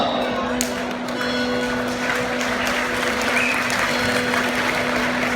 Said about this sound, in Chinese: 热情掌声鼓励